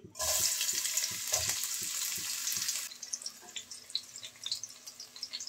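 Sliced onions hit hot mustard oil in a pan, bursting into a loud bright sizzle that soon settles into scattered crackles and pops.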